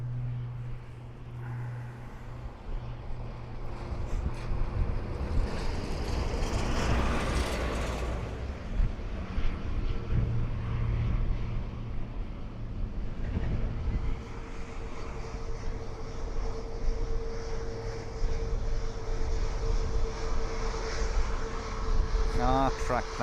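A fixed-wing airplane passes at Dublin Airport with a broad, steady engine roar that swells and fades over time. It sits against continuous background noise, with some low talk in the mix.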